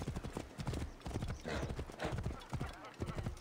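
A horse's hooves clip-clop in a quick, rhythmic gallop while riding in the video game Assassin's Creed Origins. The steady hoofbeats are close and loud, with a brief neigh-like tone mixed in.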